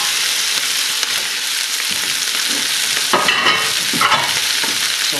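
Vegetables tipped into onions frying in olive oil and stirred, giving a steady loud sizzle with scraping stir strokes and a few louder bursts of crackle partway through.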